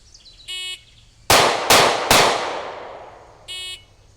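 Three sharp gunshots from a Hellcat handgun fired from a low point-shooting position at 7 yards, loud and close with fast decaying echo, framed by short electronic timer beeps before and after.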